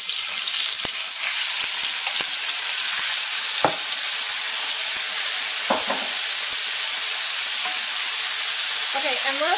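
Shrimp coated in orange ginger seasoning fry in hot oil in a pan, giving a loud, steady sizzle and hiss throughout, broken by a few sharp clinks and scraping stirs.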